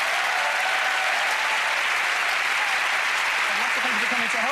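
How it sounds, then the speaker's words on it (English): A theatre audience applauds steadily and evenly throughout, a dense wash of many hands clapping with a faint voice rising beneath it near the end. "Give her a round of applause."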